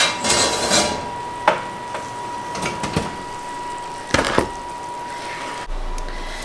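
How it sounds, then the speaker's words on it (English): A spatula and a pizza peel lift a thin-crust pizza out of the oven, heard as scattered close scrapes, taps and clacks of metal against the oven and pan, with quiet gaps between. "to get this out, I'm going to use a spatula and the pizza peel"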